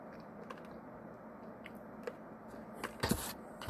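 Close, quiet crunching as someone bites and chews a crisp Dubai chocolate bar, with a few small cracks and a louder burst of crunch near the end.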